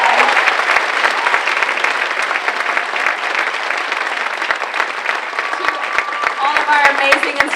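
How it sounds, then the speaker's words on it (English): Big round of applause from a crowd at a Riverdance summer school dance showcase in Dublin, sustained and dense with sharp individual claps, filling the hall steadily from start to finish. "Can we have a huge round of applause?"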